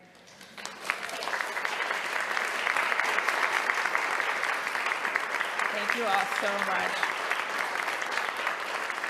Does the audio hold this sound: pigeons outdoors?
no